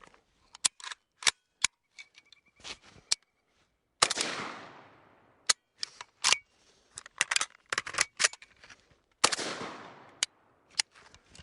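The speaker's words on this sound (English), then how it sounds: "now I'm gonna set up for the bolt hold open reload" Rifle bolt hold open magazine reload, a string of sharp metallic clicks and snaps with two longer rattling clacks of the magazine change, spaced irregularly and close by, no talking.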